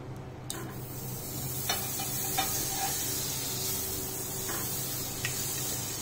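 Butter hits a hot sizzler plate and sizzles with a bright, hissing steam that stays steady and fairly close, with a few soft clinks and no speech.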